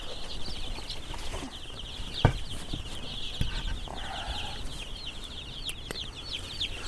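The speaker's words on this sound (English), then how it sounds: "Let's look at some chickens" Egg-laying chickens on a farm cluck softly and steadily in the background, with a few sharp knocks and bumps nearby over an otherwise quiet coop.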